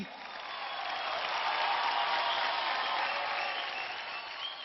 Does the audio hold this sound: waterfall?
no